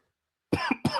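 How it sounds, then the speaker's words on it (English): Three quick, harsh coughs right up close, bursting one after another after a moment of silence. "let me go have my coughing fit"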